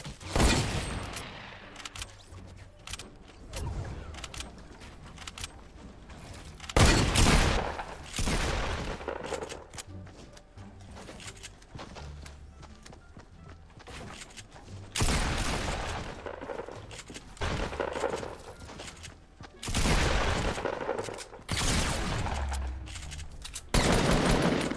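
Bursts of automatic gunfire ring out in a shooter video game, several rapid volleys spread across the stretch with quieter gaps between, loud and sharp, with no voices.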